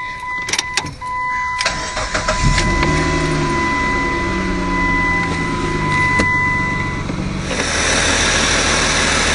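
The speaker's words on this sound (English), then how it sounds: "So it's running once again, just no knock this time." Rebuilt Chrysler 2.7 engine in a 2002 Sebring, running steadily after the starter catches, a close, even idle hum with a high whine, some light clicks and a brief hiss near the end.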